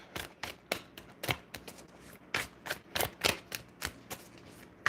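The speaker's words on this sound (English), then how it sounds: "So I'm going to get these shuffled and then let's see what comes up." Tarot cards are shuffled by hand in a quiet room, a rapid series of soft, close riffling snaps and slaps in irregular bursts.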